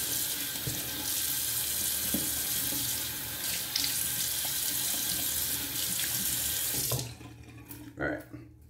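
Tap water running steadily into a sink while a double-edge razor is rinsed, close and continuous, then cutting off with a few splashes and clinks.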